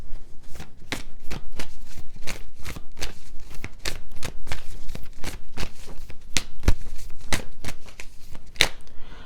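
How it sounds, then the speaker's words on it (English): Ancestor spirit oracle cards being shuffled, a steady run of crisp riffling snaps repeating quickly and evenly up close, with no talking over it. "I'm going to pull a few ancestor spirit oracle cards"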